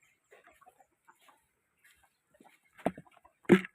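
Brahma chickens at an egg-laying nest give a few faint scattered chirps, then two louder, closer clucks in quick succession near the end.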